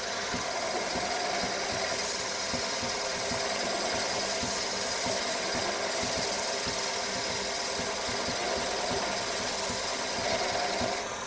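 Lathe turning down a chess knight piece, a steady dense mechanical whir and rattle running continuously at close range with no voices.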